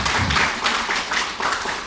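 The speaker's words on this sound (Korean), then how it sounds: "한 번 더 박수 주시기 바라겠습니다." Clapping from an audience at a 2023 New Year greeting event held by the Anyang mayor in Anyang 8-dong, a short burst of rhythmic, fairly close hand claps of moderate loudness with no talking.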